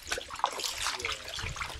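Water is poured and splashes to rinse pepper spray from someone's eyes, irregular trickles and splatters up close at moderate volume.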